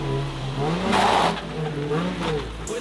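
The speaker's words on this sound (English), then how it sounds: "the Nissan 350 is driving" A Nissan 350Z drives past with a short engine rev and a rising, revving note, close and fairly loud, with no speech over it.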